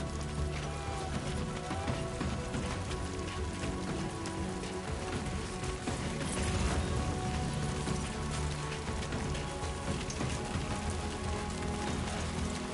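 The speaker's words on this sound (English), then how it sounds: "Great, it's rain." Steady heavy rain pours across the landscape in the video game Death Stranding 2: On The Beach, a dense, continuous hiss of drops on the ground that stays even and close throughout.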